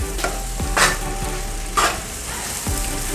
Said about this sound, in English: So we're just gonna stir it just a little